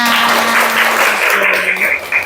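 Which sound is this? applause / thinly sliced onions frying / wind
applause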